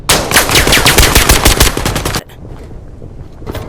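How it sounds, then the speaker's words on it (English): Loud, close machine-gun fire in the Vail VR video game rattles in a fast burst of about two seconds, then cuts to a quieter pause with a faint further shot. "it looks like there's a lot of gunfire this way"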